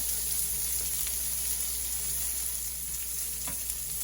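Bacon strips crisping in a pan for a copycat Cook Out western burger, a steady close sizzle with faint crackles and one brief scrape or tap near the end, no voices.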